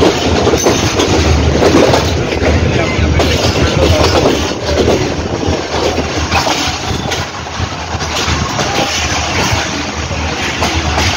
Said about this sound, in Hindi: ये लाहौर रेलवे स्टेशन का मंजर आप देख रहे हैं।